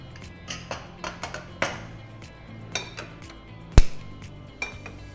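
A pressure cooker and metal pots are handled in a home kitchen for a Sankranti festival dish, with scattered light clinks and taps and one sharp, loud clank near the end.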